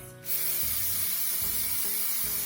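A can of spray adhesive hisses in one long, steady burst, starting abruptly after a brief quiet moment and continuing evenly to the end.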